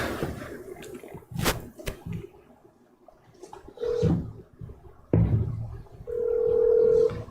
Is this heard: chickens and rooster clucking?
no